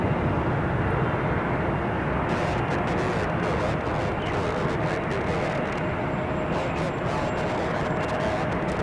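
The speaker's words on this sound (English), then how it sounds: "Dreamliner. On the pond 6. Flying in from Narita." A Boeing Dreamliner arriving from Narita at LAX gives a continuous low engine rumble and rushing roar, fairly loud and sustained throughout, with no one speaking.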